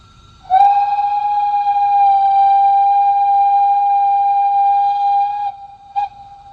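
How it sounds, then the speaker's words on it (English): A single sustained steam whistle from an LGB 2180 model locomotive with Zimo sound blows for about five seconds, bright and steady, then cuts off with a brief short toot after. "And that is a playable whistle."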